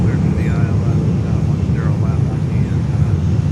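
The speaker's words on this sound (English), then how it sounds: "Bahamas Air 737-700 coming up" A Bahamasair Boeing 737-700 jet airliner rumbles at Fort Lauderdale airport, a low steady engine drone with fluttering pulses, while a person talks over it.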